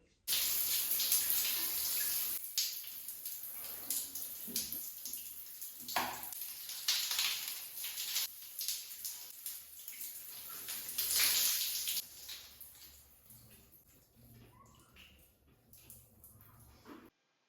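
Shower water runs steadily at home, a continuous hiss of spray close by that shifts in strength, swelling and easing, then thins out toward the end.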